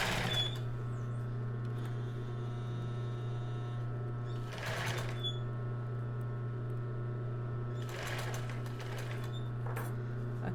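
A domestic sewing machine running a straight stitch at 2.5 mm length over a steady motor hum, with a few short bursts of faster stitching and clicks as fabric is guided.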